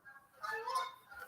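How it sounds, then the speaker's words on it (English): Geese honk among seabirds and ducks, a brief burst of several nasal honks overlapping at moderate distance, rising and falling in a short outdoor chorus. "Holy moly, all the seabirds and ducks and geese."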